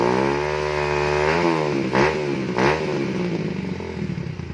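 A Honda Sonic 125 motorcycle fitted with a DBS racing exhaust idles loudly up close, then is blipped in two sharp throttle revs that rise and fall back to a rough, burbling idle, with no talking.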